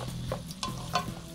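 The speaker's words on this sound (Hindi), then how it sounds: "और ये हम इस तरह से इसको मिक्स कर रहे हैं" Tandoori pasta stirred in an oiled pan, a spoon scraping and tossing it in a few quick strokes over a soft continuous sizzle.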